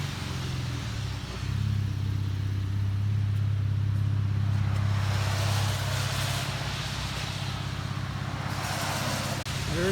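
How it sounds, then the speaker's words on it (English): A 2012 Chevrolet Camaro V6 with dual exhaust and muffler delete driving off, a deep rumbling exhaust that swells as it pulls away, then fades to distant road noise. "There's the drive off."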